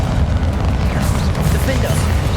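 Confringo fire spell blast in Hogwarts Legacy, a dense rumbling burst of booms filling the whole stretch, loud and close, with a voice briefly speaking over it.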